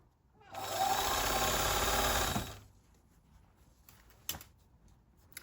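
A domestic sewing machine stitches elastic onto a sports bra in one continuous close whirring run of about two seconds, then stops, followed by a few faint handling knocks and clicks.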